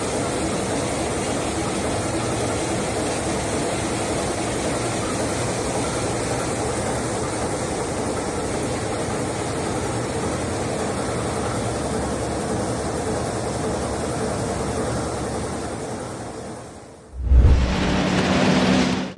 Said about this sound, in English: The Scharrer and Gross engines do not run quickly. It runs steadily, roughly, and solidly.